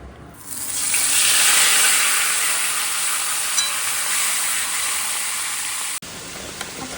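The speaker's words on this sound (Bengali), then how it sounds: "এখানে হচ্ছে গিয়ে মূলো ভাজা বসিয়ে দিচ্ছি" Steady, bright sizzling of radish frying in a pan, loud and continuous throughout with no talking.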